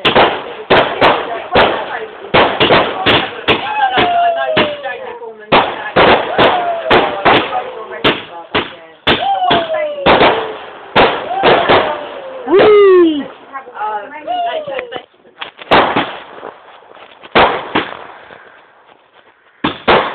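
Fireworks go off in a dense series of sharp, loud bangs and crackles, some followed by whistling rises, with short pauses between bursts over about twenty seconds.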